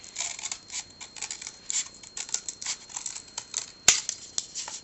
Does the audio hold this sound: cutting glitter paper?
yes